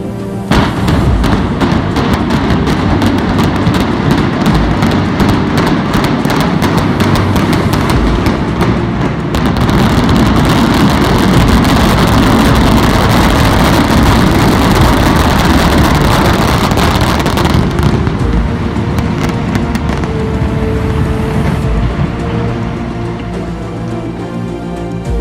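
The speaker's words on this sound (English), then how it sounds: "the historic Budd Wheel Factory on Detroit's east side was finally brought down in a gigantic cloud of dust" Demolition blast bringing down the historic Budd Wheel Factory on Detroit's east side: a loud, sustained roaring rumble with heavy wind buffeting on the microphone, continuing for many seconds before easing slightly near the end.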